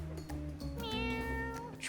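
In the Mewgenics video game, a cat lets out a clear, drawn-out meow that rises in pitch in the middle, close and distinct above a low, steady game hum.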